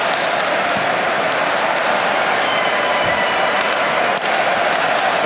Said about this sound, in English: Both the Swedish and Austrian fans are up and clapping.